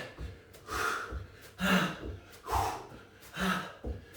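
Heavy rhythmic breaths, gasps and snorts during a dumbbell HIIT workout, coming in steady bursts about once a second, close and fairly loud.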